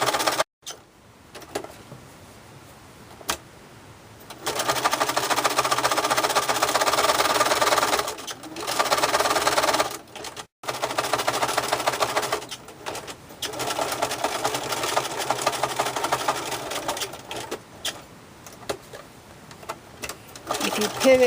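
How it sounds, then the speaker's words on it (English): A sewing machine stitches a tea towel bib in long, steady, close runs of fast whirring, stopping briefly between seams as the fabric is pivoted. "You sew all the way down one side, turn, and come all the way back the other."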